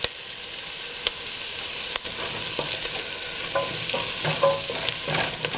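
Butternut squash frying in a pan, browning at the edges, gives a continuous bright sizzle with a few sharp stirring clicks and scrapes scattered through it.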